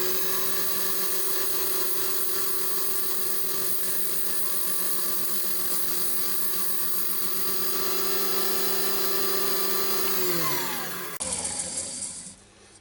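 Abrasive mesh sanding the inside of a turned yew bowl on a lathe gives a steady, loud whirring hum with a constant tone that winds down near the end as the spin slows, with no talk.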